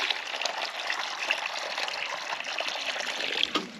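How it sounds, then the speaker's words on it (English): Water trickles and splashes as a rabbit colony's water supply is topped up. The gentle, fairly quiet flow is steady for a few seconds. "Top up the water."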